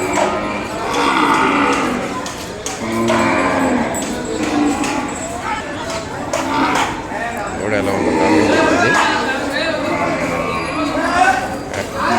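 Cattle moo amid a busy outdoor cattle market in Kodad, drawn-out lowing calls from calves mixed with crowd chatter and people talking nearby.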